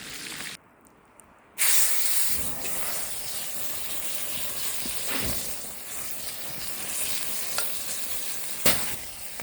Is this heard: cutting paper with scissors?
no